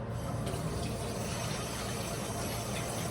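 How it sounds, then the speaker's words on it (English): Hands are rinsed under a running kitchen tap after mixing raw bison meat, a steady splashing stream of water into a sink, moderately close and continuous with faint shifts as the hands move. "I'm gonna rinse my hands off here."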